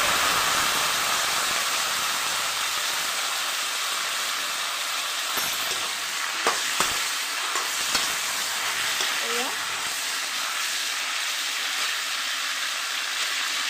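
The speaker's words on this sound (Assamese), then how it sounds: "ইয়াতে মই গোটেইখিনি আম দি দিম।" Green mango pieces dropped into hot oil with popping mustard seeds for a sour mango dish, a steady loud sizzle with stirring scrapes and a few clunks, no talking.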